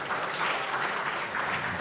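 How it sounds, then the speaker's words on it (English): Steady, dense applause from a large audience for the NECA Secretariat at the Nigeria Employers Summit, an even wash of many hands clapping without a break throughout. "please, let's give NECA Secretariat a round of applause, please"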